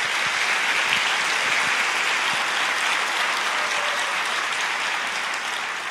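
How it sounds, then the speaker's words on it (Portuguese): Sustained applause from a church congregation, a dense steady wash of many hands clapping at full strength throughout, fading slightly at the end. "pode aplaudir."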